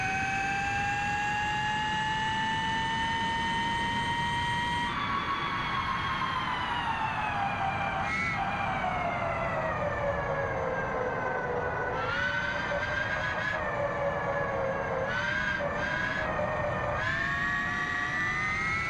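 A high electric motorcycle motor whine climbs and falls with throttle, steady and close, with a deep rumble of road noise underneath and brief dips as it eases off.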